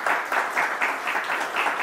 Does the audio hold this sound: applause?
yes